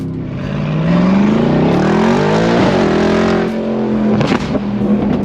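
A 920 hp Mercedes G-Class revs loudly and accelerates on the road, its engine note climbing and falling through gear changes, close and dominant throughout with no talk.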